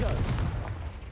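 Confringo fire spell cast in the video game Hogwarts Legacy, a loud explosive burst opening the short clip and fading into a rumbling decay.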